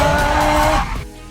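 A car skids through a stunt in a Bad Boys: Ride or Die action trailer, a loud, sustained tire squeal over roaring engine noise lasting about a second before cutting off sharply.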